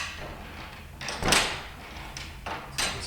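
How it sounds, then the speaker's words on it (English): A heavy door in a medieval village church at Norton Disney, Lincolnshire, swings and thuds shut, with a couple of shorter knocks and creaks following in the quiet interior. "This door closed."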